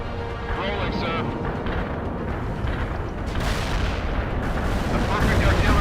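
Artillery shells hit in the video game World in Conflict, heavy booming blasts and rumbling impacts rolling under a game voice, swelling louder toward the end.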